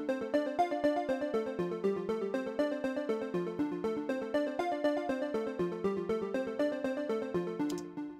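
A Jupiter-8 style synth sequence imitating a song's opening repeats in Logic through a dotted eighth-note tape delay, its echoing plucked notes overlapping into a dense, continuous shimmering pattern, heard alone and close.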